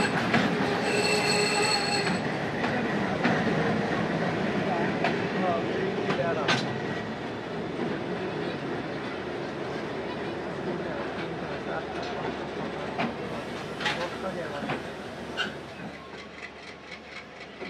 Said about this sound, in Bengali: বরেন্দ্র এক্সপ্রেস কিন্তু এই আমাদের ফুলবাড়ি রেল স্টেশন হতে কিন্তু আগে ছেড়ে চলে যাচ্ছে